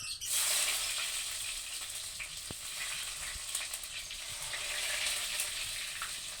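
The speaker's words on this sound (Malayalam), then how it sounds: "നമുക്ക് ഇഞ്ചി വെളുത്തുള്ളിയും കൂടെ എണ്ണയിലോട്ട് ചേർത്ത് കൊടുക്കാം" Ginger and garlic hit the oil for a Kottayam-style fish curry, a sharp burst of sizzling that settles into a steady frying crackle with a few stirring clicks, fairly quiet and without speech.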